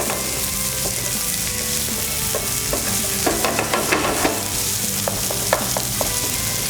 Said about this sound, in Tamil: ஜீரா ஓரளவு வந்ததுக்கப்புறம் நம்ம வெங்காயம் போட்டு நல்லா வதக்குறோம்.